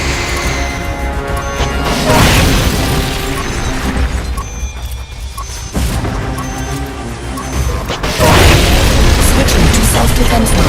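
A rocket launcher fires and detonates in a Metal Gear Solid Peace Walker boss battle against the Peace Walker machine: loud, dense booms and crashing blasts that run almost continuously, with voice lines over the din.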